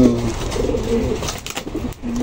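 Breeder pigeons coo in low, throaty repeated calls, fairly close, over a steady background.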